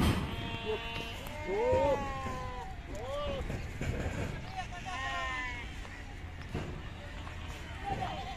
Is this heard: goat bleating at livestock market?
yes